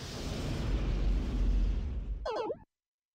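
Bomb blast in the video game IDARB's Bomberman mode, a loud rumbling explosion that roars for about two seconds and then cuts off abruptly, with a brief whooshing burst at the end.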